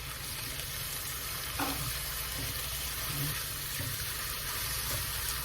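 Onions frying in a pot for a beef kaldereta with peanut butter give off a steady, fairly loud sizzle, with a few soft stirring knocks partway through and no talk.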